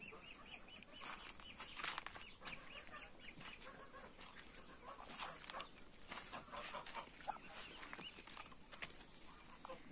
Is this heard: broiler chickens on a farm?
yes